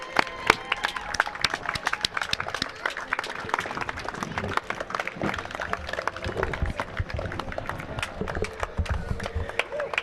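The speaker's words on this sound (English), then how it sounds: "Give them a round of applause." A parade crowd claps outdoors at a St. Patrick's Day parade for a passing veterans' military honor guard, with scattered, uneven applause and background crowd noise at moderate distance.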